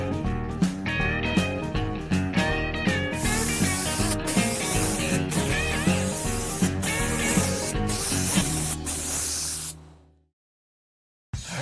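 A spray gun laying paint coats on a car in a garage, with a rapid series of loud, close hissing bursts and short pauses that ends abruptly in silence.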